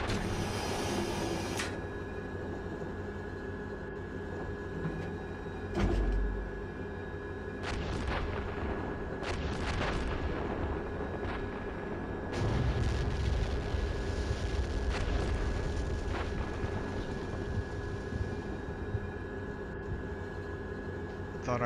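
Tank cannon fire in a military video game, heard as a few heavy booms with low rumble at mid distance over a steady noisy background.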